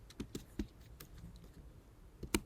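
Typing text on a computer keyboard while building a Bootstrap modal, a few scattered, faint key clicks in short irregular bursts with pauses, close and quiet.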